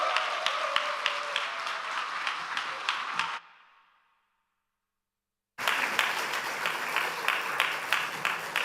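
A church congregation bursts into sustained, dense applause that dies out into silence, then resumes at full strength for several more seconds after the pause.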